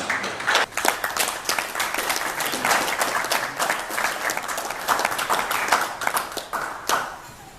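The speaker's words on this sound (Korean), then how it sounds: "큰 박수로 맞아주십니다" An audience claps steadily for several seconds, a dense burst of applause that tapers off near the end.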